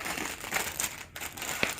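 A plastic bag crinkles and rustles up close as a Lightning Magnum model kit is unboxed, with a continuous crackling texture and a few sharper crunches.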